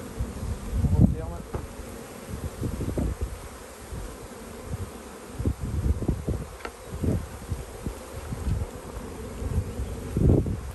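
Healthy honeybee colony in spring at an opened hive, a dense buzzing hum with individual bees droning past close to the microphone, with a few soft handling bumps.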